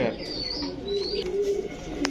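Pigeons of breeds such as Pakistani, Rajshahi and Kaldam coo softly and close by, with low throaty coos and a few faint chirps and wing flutters, while someone talks quietly over them.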